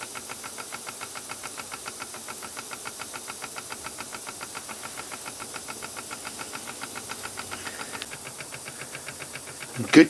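A Cyldon toy steam engine runs on a workbench, ticking over in an even, rapid chuff of hissing beats close by, ending with a brief louder knock.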